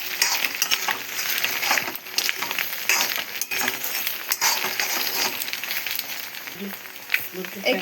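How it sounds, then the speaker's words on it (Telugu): Salted eggs fry in a pan with a constant, close sizzling hiss, broken by occasional scrapes and light clinks of stirring, while someone talks over it. "ఎగ్స్ ఫ్రై అయిపోయినాయి."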